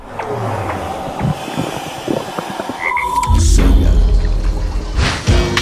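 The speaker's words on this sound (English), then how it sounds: "Just look at that frog." A frog croaks in a lush forest scene from the CryEngine 3 tech trailer, a series of distinct close calls over a bed of ambient wildlife chirps, followed by a heavier low rumbling swell.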